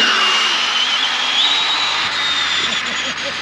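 A fast RC car, an Arrma Kraton 8S, runs at speed, its high-pitched whining motor steady and loud with a rising and falling pitch, close by and without talk.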